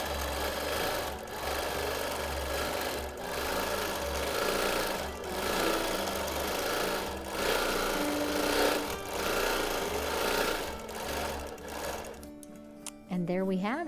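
A sewing machine runs in long steady stretches while quilting an overall pass across a pieced quilt top, with a rapid mechanical chatter that pauses briefly and stops near the end.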